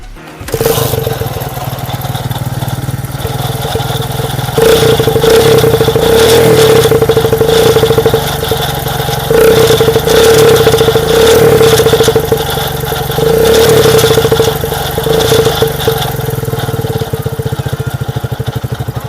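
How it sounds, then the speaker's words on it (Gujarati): A motorcycle with a modified silencer runs loud and raspy with a throaty, uneven idle, revving up in several surges, close by with no talking. "તો હવે આ બાઇકને આપણે ચાલુ કરીએ"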